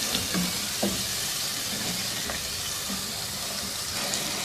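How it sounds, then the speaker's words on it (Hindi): Yogurt and fried onion paste stirred into an aloo gosht curry in a hot pan, with a steady close sizzle and a few soft scraping stirs, no talking. "अब इसमें शामिल कर देंगे दही और फ्राई प्याज का पेस्ट। अच्छी तरह से मिक्स कर लेंगे।"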